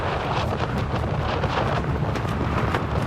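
Storm wind batters a tent on an active volcano, a loud, unbroken roar of gusts and rumbling buffeting with faint flapping, steady throughout with no voices.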